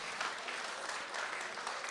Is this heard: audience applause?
yes